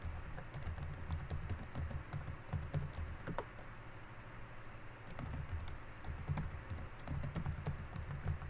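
Steady typing on a computer keyboard while filling in a Microsoft Word table, a continuous close patter of key clicks with brief pauses, over faint low hum and no talk.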